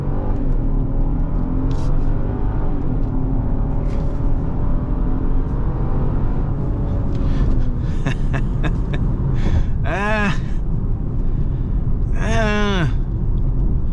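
A Genesis GV70 with the 3.5-liter twin-turbo engine pulls hard out of a U-turn, a deep rising engine rumble building steadily from inside the cabin, with brief sharp chirps and noises near the end.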